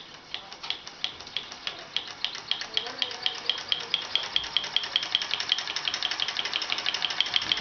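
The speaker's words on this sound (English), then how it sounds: "I will give the flywheel a spin and we will see if it will run." A small hot-air Stirling engine of walking-beam type runs after its flywheel is spun by hand, giving a steady mechanical ticking that starts slowly and quickens into an even, rapid beat.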